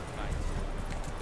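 Horse hooves clip-clopping in The Witcher 3, a quick run of soft hoofbeats on the ground with a voice talking over them.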